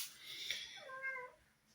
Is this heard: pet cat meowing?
yes